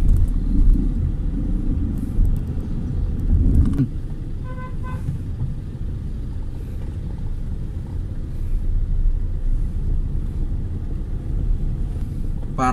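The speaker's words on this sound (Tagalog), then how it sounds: "Traffic masyado." Steady rumble of car traffic on a congested city road near City Hall in Parañaque, heard from inside a vehicle, with continuous low engine drone and a few faint horn toots around the middle.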